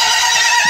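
A black foal with a white blaze gives a loud, close neigh, one short bright whinny that fills the moment with no talk over it.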